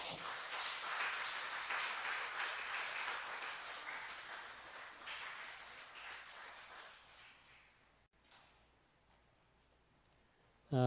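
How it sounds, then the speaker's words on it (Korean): Church congregation applauding at a Sunday worship service as two people come forward for baptism, a broad steady clapping that gradually fades out over about eight seconds, followed by near silence. "박수로."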